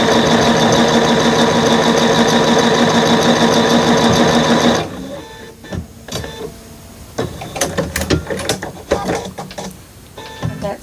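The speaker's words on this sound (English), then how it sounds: "we're just going to sew this at 1/4 of an inch" Sewing machine running steadily as it stitches fabric at a quarter-inch seam for a quilting chevron unit, a loud continuous mechanical whir for about five seconds, then stopping into quieter handling clicks and rustles.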